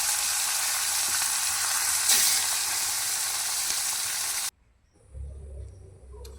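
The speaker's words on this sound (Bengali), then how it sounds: "আবার ওই তেলের মধ্যে আবারও দুটো মাছ দিয়ে আবার ভেজে নেব।" Fish fry in hot oil with a loud, steady, crackling sizzle that runs unbroken and then cuts off abruptly, followed by a brief low rumble.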